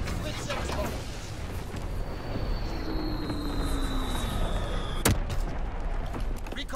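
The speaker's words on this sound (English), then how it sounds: "Dropping split six bombs." Bombs going off in a WW2 video game amid constant battlefield rumble, with a sharp blast cracking out near the end over the dense war din.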